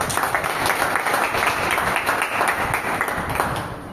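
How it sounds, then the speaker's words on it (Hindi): A crowd applauding, dense steady clapping that fills the whole stretch and tapers slightly at the end. "इसके लिए भी एक तालियां बनती है"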